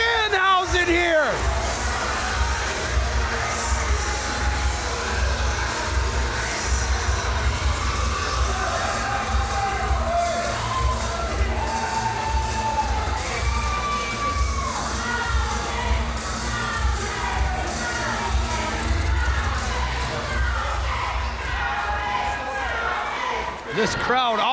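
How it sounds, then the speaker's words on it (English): A pro wrestling crowd at a Halloween show roars and cheers for the wrestler Danhausen, a loud, dense, continuous wall of shouting and whooping that holds steady for the whole stretch, with commentary voices mixed underneath. "This crowd already getting behind Danhausen here"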